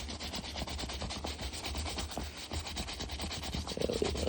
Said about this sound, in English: now we're gonna really scrub this part